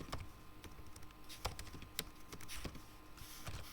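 Keys clatter on a computer keyboard while someone types Python code, a quiet, irregular run of soft clicks with a few sharper taps, heard close with no talking.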